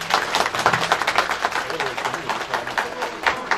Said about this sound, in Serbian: molim jedan aplauz za naše organizatore